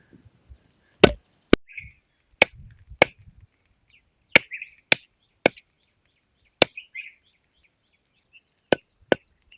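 A knife chops country chicken into pieces outdoors beside a hill stream, about a dozen sharp, loud cleaver strikes landing at an irregular rhythm with short pauses between them, with faint handling noises in the gaps and no talking.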